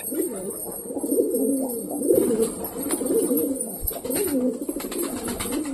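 Pet pigeon cooing steadily and close by, a run of soft repeated throaty phrases across several seconds with light background noise.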